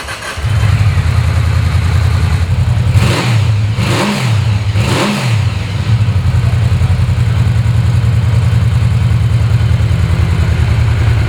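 A 2009 Yamaha VMAX motorcycle engine catches and runs close by, three sharp revs rising over a deep, steady idle that continues loudly to the end.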